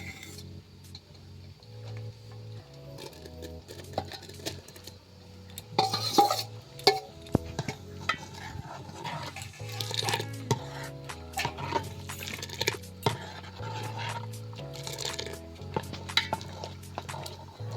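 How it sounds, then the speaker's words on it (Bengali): Fried potatoes being stirred into reduced milk for a sweet potato dessert, a spoon scraping and clinking against the pan in irregular strokes over a low background hum, fairly close with no voices. "এবার একটু নেড়ে দেব"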